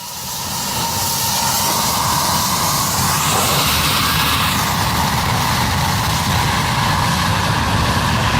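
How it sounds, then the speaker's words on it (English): Boeing 737 jet blast at Skiathos airport in Greece, a loud continuous roaring hiss of engine exhaust that swells within the first second and stays strong and close throughout. "These people found out how strong a Boeing 737 jet blast is."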